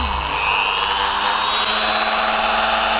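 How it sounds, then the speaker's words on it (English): Dremel rotary motor tool at mid-speed, lightly touching a foam RC plane under repair after a saltwater landing, gives a loud, continuous high-pitched whine that holds steady from start to finish with no speech. "why not a Dremel motor tool? Okay, so I'm using it at about mid-speed"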